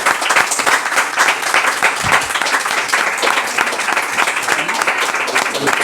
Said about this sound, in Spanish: Así que fuerte aplauso para ellos